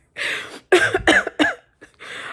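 A few sharp coughs in quick succession, close and fairly loud, followed by a short pause and one more cough.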